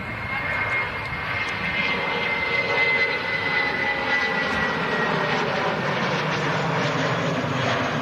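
An airplane engine roars as an aircraft flies past near London Heathrow, a loud, steady broadband rumble and whine filling the whole stretch, with a voice talking faintly underneath.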